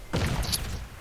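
A frag grenade explosion in the video game Crysis, a single short, punchy thud with a brief hissing tail, heard alone and fairly loud at close range.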